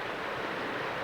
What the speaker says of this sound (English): part of the creek is right in front of the cabin. And it's kind of neat because you can really hear it